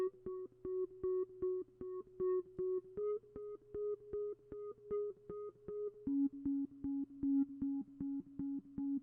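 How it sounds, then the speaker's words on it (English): A sine lead synth pattern programmed in FL Studio, playing steady repeated pure-toned notes in a pulsing rhythm that step between a few pitches, with a soft low bass layer beneath and no voices. "we're going to make a sine lead pattern that sounds like this."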